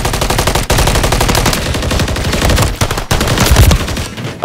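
Rapid automatic gunfire from hip firing in Call of Duty MW3, loud continuous bursts of fast shots with a couple of brief breaks, close and dominant, no talking over it.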